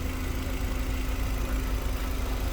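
A 2004 Volkswagen New Beetle convertible's 1.8-litre turbocharged four-cylinder engine idles steadily with a low, even hum and a faint constant tone, close up with no talking.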